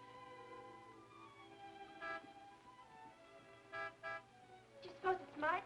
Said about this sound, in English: would never honk a horn at a lady